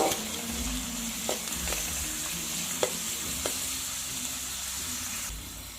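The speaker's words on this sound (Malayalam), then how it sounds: "ഇതെല്ലാം നമ്മളൊന്ന് ഇളക്കി കൊടുക്കുക." A spoon stirs mushroom masala with curry leaves frying in a pan, a continuous close sizzle and hiss broken by a few light scraping knocks of the utensil, with no voices.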